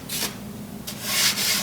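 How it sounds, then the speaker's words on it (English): Sandpaper rubs against the edges of a carved foam piece in two short, close strokes, each a soft gritty scratch, with no voices. "Sanded it off a little bit."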